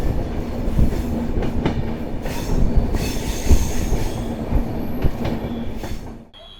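Passenger train on the Visakhapatnam to Araku line running through hill country, loud continuous rumble with rhythmic wheel clatter and a squealing wheel tone, heard from on board and fading at the end.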